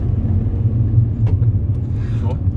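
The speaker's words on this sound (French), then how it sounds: "Donc quand tu accélères, tu vois qu'il n'y a pas d'effet de saccadé comme ça, tu vois." A Mercedes CLA 250 AMG-line accelerating smoothly, a steady low engine rumble heard from inside the car, with people talking over it.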